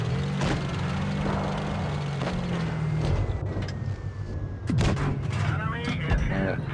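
A 90mm tank cannon on the Spähpanzer SP I C in a tank battle game, with a few sharp shots and impacts over a rumbling engine while someone talks throughout.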